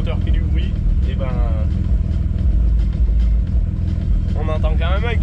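A bi-turbo BMW 325i engine with a homemade exhaust rumbles steadily at idle, a deep constant drone with a person talking over it.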